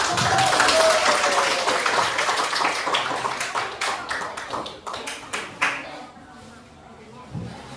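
An audience applauds at a spin-prize event, a dense burst of clapping that gradually thins to scattered claps, with voices talking over the start.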